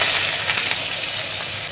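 Mustard oil hits a hot pan in a home kitchen, giving a continuous bright sizzle and hiss that stays loud and steady throughout, with no voices.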